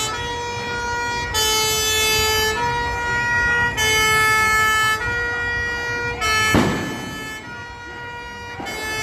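Fire engine sirens blare from firefighters at a protest, alternating two-tone wails that switch back and forth loudly, with a sharp bang midway and traffic rumble beneath.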